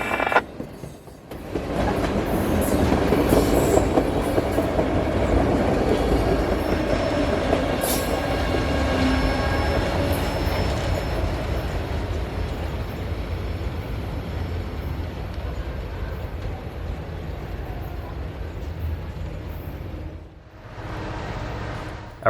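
A freight train rolls through a railroad crossing in northwest Georgia, a loud sustained rumble of wheels and cars with squealing and clacking, passing close for nearly the whole stretch before abruptly dropping away near the end.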